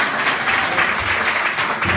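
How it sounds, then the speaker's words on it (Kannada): A church congregation claps loudly and steadily at a Christmas service, dense continuous applause filling the room with no talk over it. "ಗಟ್ಟಿಯಾಗಿ ಚಪ್ಪಾಳೆ ತಟ್ಟಿದ್ದೇವೆ"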